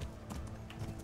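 Quick rhythmic clip-clop of horse hooves galloping in the video game Kingdom Come: Deliverance, a short steady burst of hoofbeats with faint voice underneath.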